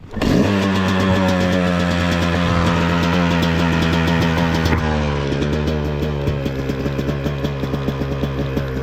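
A Yamaha YZ250X two-stroke dirt bike fires up and runs at a steady idle nearby, its harmonic drone holding level, then picking up a faster pulsing, slightly irregular beat in the last few seconds.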